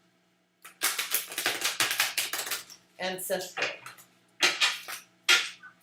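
Thick tarot cards shuffled in a witchcraft-tradition deck reading, giving repeated dense riffling bursts close by, broken by short pauses, with a voice speaking briefly between shuffles.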